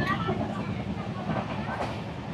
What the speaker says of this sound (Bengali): ট্রেন কিন্তু মোটামুটি ভালো স্পিডে চলছে